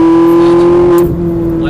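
Ferrari 458 Italia V8 engine at full throttle on a racing circuit, a loud, steady high-pitched drone that holds for about a second before easing off slightly, with no talking.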